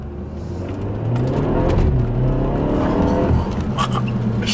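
A Dinan-tuned BMW F30 in sport mode drives and accelerates, its engine a loud, close, continuous drone that rises in pitch as it pulls, heard alone without talk.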